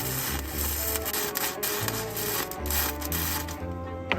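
Arc welder running close up while the welder kneels in an awkward, unsupported position, giving a steady crackling buzz with low electrical hum throughout and a few brief pops.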